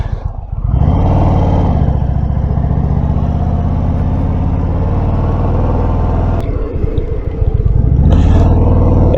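A 2022 Indian Chieftain motorcycle engine while riding, a loud, close, steady low rumble that holds through most of the ride, dips briefly, then swells again as the throttle opens.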